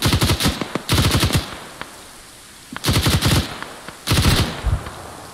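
Automatic gunfire in a Falklands war video game, heard as four loud, close bursts of rapid shots separated by short pauses, with faint background noise between bursts and no talking.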